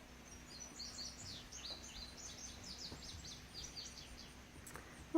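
Small birds, hummingbirds and chickadees on an Ozark mountainside after a tropical storm, chirp in quick high twittering bursts at a moderate distance over a soft steady background hiss, with a brief louder thump at the very end.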